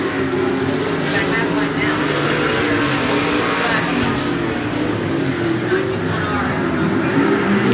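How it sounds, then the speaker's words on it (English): Street stock race cars roar around the 105 Speedway track in a heat race, a loud continuous engine drone that rises and falls as the pack passes, with a commentator talking throughout. "We're back underway here for our second street stock heat race."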